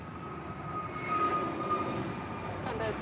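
An SAS Airbus A350-900 airliner departing LAX produces a steady, broad engine roar that swells slightly over a few seconds with no voices.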